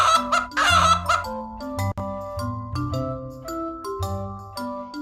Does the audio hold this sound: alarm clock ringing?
no